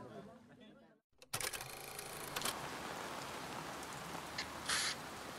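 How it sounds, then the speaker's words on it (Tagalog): Heavy rain pours down steadily as a dense hiss after a brief silent gap, staying loud and continuous with a few sharper splashes. "inabutan kami ng malakas na ulan"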